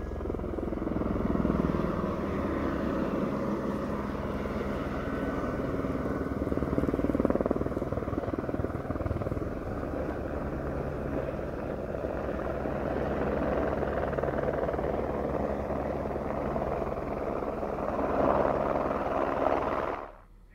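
A rescue helicopter drones steadily overhead after an avalanche in Gulmarg, its rotor chop and engine hum holding loud and constant before cutting off abruptly at the end.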